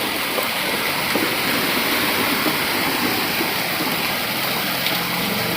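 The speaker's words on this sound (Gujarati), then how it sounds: "બહુ મસ્ત વરસાદ" Heavy rain pours down in Morbi alongside rushing, flowing water, a dense, steady hiss and roar that stays even and loud with no voices.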